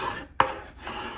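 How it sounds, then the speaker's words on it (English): A tool scraping dried paint off a painted furniture surface gives a short, close, raspy scrape with one sharper stroke, then a lighter rubbing scratch, and no talking. "I'm just kind of scraping in random areas."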